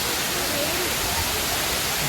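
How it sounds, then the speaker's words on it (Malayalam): Areeckal waterfall, a small fall with water dropping from above, giving a steady broadband rush that stays loud and even throughout, with no voices over it. "ഇതാണ് അരീക്കൽ വാട്ടർഫാൾ, അരീക്കൽ വെള്ളച്ചാട്ടം"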